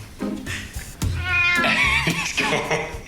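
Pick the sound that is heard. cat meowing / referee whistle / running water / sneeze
cat meowing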